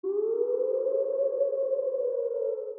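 A rising, steady siren-like synth tone opens a Yo Yo Honey Singh song, a smooth continuous wail with a faint upper harmonic, alone and sustained for nearly three seconds.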